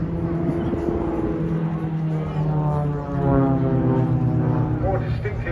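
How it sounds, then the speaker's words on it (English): An Extra 300NG aerobatic aircraft performing at the Wales Air Show 2025 gives a loud, droning propeller-engine note whose pitch rises and falls as it manoeuvres, with a voice likely talking over it. "Distinctive sound from this aircraft is the top of the range from the extra aircraft, one of the most, the 300NG"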